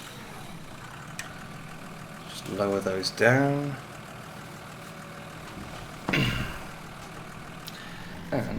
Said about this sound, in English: Get the tractor turned on.